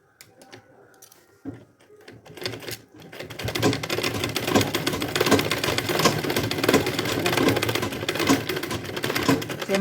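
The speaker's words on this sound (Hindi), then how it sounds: "और सिलाई करके।" A sewing machine stitches a boxy makeup organizer purse. A few quiet handling taps come first, then fast, steady needle chatter starts around three seconds and carries on loudly to the end.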